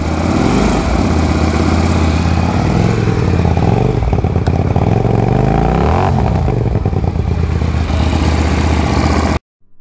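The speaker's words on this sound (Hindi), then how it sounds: "and now it's time for exhaust" A loud QJ SRV 300 cruiser motorcycle engine runs steadily and revs up and down through its exhaust for about nine seconds, thick low rumble with clattering, then cuts off abruptly.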